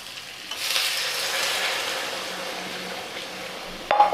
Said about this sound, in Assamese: এনেকৈ বেছি সময় ভাজি থাকিব লাগে, তেতিয়া খুব ধুনীয়া হয়।